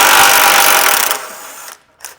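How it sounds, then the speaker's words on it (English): A power tool spins loudly as it removes a bolt while a Roadmaster Direct-Connect base plate kit is installed on a vehicle. It runs as a steady close whine, winds down, and ends with a brief final blip. No one speaks. "we're gonna get this bolt removed"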